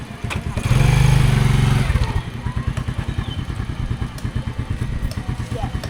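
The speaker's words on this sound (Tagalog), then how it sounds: "Motor namin to." A motorcycle engine loudly revs up for about a second, then settles into a steady, rapidly pulsing idle close by, on a muddy road outside a house, with people talking faintly around it.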